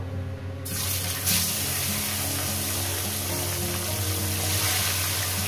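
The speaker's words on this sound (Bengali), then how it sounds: "তেলটা আমার গরম হয়ে গেছে। এবার মাছের পিসগুলো আমি এক এক করে দিয়ে দেব।" Rohu fish pieces hiss and sizzle in hot oil in a pan, a loud, steady broadband frying roar that swells as each piece goes in, close up and with no talk.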